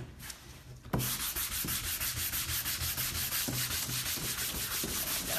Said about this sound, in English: Buff that out.